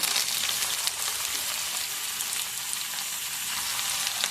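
Amla pieces hit hot hair oil in a black iron kadhai, producing a continuous dense sizzle and crackle at an even level, alone without speech.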